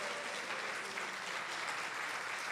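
A church congregation claps for the Lord, a steady, broad wash of applause filling the space alone, without talk.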